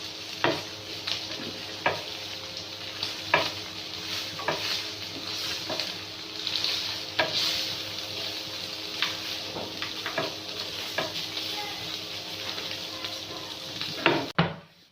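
Chicken pieces for shawarma sizzling steadily in a hot pan, with a utensil stirring and scraping at regular intervals, close and continuous with no talk.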